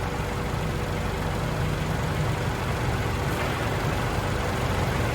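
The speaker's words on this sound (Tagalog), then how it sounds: "Kita nyo gaano katahimik yung makina" A car engine idles steadily right after a Totachi engine flush, giving a smooth, quiet, low rumble that stays even and unbroken throughout, with no voices over it.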